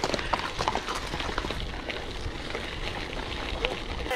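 Horses' hooves clip-clopping along a trail, heard from a mountain bike ride on a gravel bike, a close, steady patter of hoof strikes over a rough rustling background.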